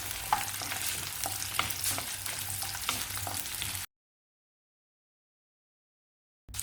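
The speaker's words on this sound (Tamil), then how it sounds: "காஞ்ச மிளகாய் சேர்த்து வதக்கலாம்" Garlic and dried red chillies sautéing in a pan, a soft, even sizzle with light stirring clicks, then a sudden drop to silence for a few seconds.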